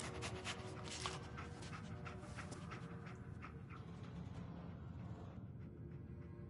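Dog companion in the video game Fallout 4 whimpering and panting, steady and close over a dense, continuous game soundscape of music and ambience with no talk.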